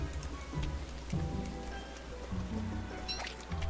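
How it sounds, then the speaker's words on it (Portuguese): Steady rain in the video game Woodlegs patters on a surface with soft scattered drops, fairly quiet, alongside faint low tones and a few brief clicks. "E por que tá chovendo já?"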